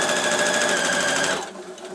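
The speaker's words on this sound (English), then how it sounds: "Do a few stitches backwards to secure. And then so straight across the corner" A sewing machine runs a quick burst of stitches across the corner of a lined tote bag, a loud, fast, even whir that cuts off abruptly near the end.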